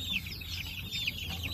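Chickens cluck inside a coop, several quick high calls repeating over a low steady background hum, fairly close and without any talking.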